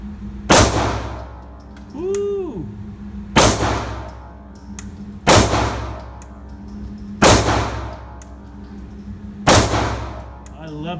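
Canik TP9SF Elite pistol fired at an indoor range, five sharp loud shots spaced about two seconds apart, each with a ringing metallic decay, plus a brief clanging ping between the first two.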